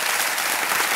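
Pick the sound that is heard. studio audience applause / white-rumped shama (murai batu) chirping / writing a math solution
studio audience applause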